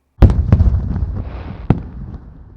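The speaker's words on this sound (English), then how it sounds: "and fireworks, apparently" Fireworks go off outside in a rapid string of sharp, loud pops and bangs, with one final crack standing out before the noise decays.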